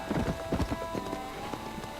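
In the video game Red Dead Redemption, horse hooves clip-clop in a quick, steady rhythm of distinct thuds, close and fairly loud over a game background.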